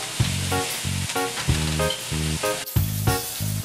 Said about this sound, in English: Now I am going to saute off these beautiful vegetables